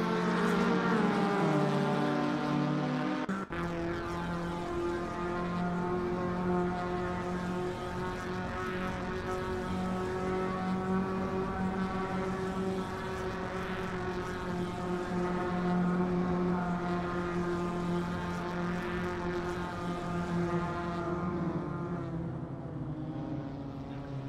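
Vintage racing car engines at the Mas du Clos circuit during a 1968-era club racing cup: a loud, continuous droning engine note rich in harmonics, holding steady with slight rises and falls for the whole stretch. No talking.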